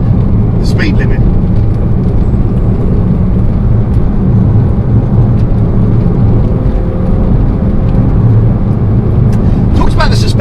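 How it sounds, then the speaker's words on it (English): BMW E36 328i Sport accelerating on a road, a steady, loud engine and road drone that holds throughout, with brief higher sounds near the start and end. "I'm just going to shut up and accelerate a little bit and enjoy the car"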